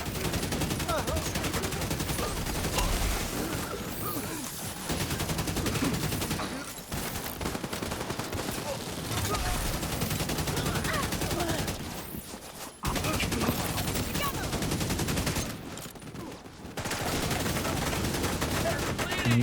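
Shooting in a video game: dense, sustained bursts of rapid gunfire roll on almost continuously, broken by a few brief pauses, with occasional talk beneath.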